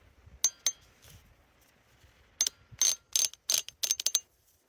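Old slackline webbing creaks and clicks during a soft release on a tree net rig. Faint crisp ratcheting bursts come in irregular clusters, quiet and close, with no talking.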